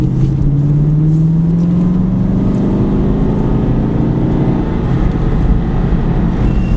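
Car pulling out of a corner in third gear under throttle, a loud continuous engine drone rising in pitch in the first seconds, then holding steady with road and wind roar.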